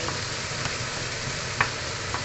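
Noodles with pork sizzle in a hot pan while being stirred, a steady frying hiss with a few sharp scrapes and clicks of the utensil.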